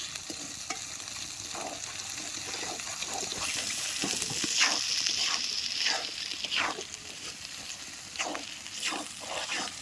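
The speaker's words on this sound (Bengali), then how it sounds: "আদা বাটা চার মগজ বাটা এই মশলাগুলো দিয়ে সুন্দর করে আমি কষিয়ে নেব" A paste of ground cumin, ginger and melon seed sizzles steadily in a pan, close up. A spoon scrapes and stirs through it in irregular strokes.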